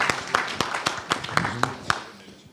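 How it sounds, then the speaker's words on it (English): A small meeting audience gives a short round of applause, roughly a dozen distinct sharp claps in loose rhythm that thin out and fade after about two seconds. "A round of applause, ladies and gentlemen."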